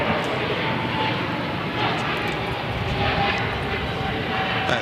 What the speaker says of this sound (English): Look at that aircraft. That's impressive, yeah. 777,